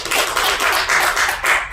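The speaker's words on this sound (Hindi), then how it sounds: "जोरदार ताली मैम के लिए" Audience claps steadily for someone speaker at a health talk, a dense, fairly loud patter of many hands with slight rhythmic swells, no voices over it.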